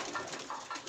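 Pigeons in a home loft coo in soft, repeated calls around laying time, several overlapping murmurs rising and falling close by with no voices.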